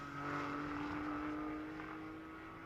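Distant GT4 race cars climb a hill at Laguna Seca, engines humming in a steady drone, a sustained mechanical tone fading slightly toward the end.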